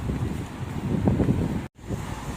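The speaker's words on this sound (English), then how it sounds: "it's raining and it's windy" Steady wind in the rain in Sydney buffeting the microphone, a low rumbling roar with gusty fluctuations and a brief dropout midway.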